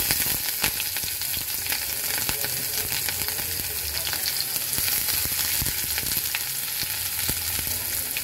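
Chopped onion and green chili sizzle in hot oil with dried red chili, cardamom and cinnamon, a steady close frying hiss with occasional stirring clicks.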